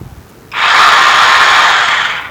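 A Hujia cordless rotary hammer drill starts up abruptly and runs at a steady, loud whine for about two seconds, close by, with no talking over it.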